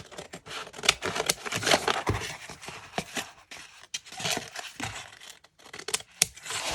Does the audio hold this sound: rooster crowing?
no